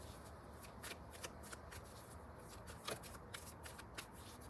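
Tarot cards shuffled by hand in a quick, steady riffle of soft papery flicks and slaps, close and fairly quiet, continuing without talk.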